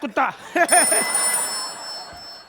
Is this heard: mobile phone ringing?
yes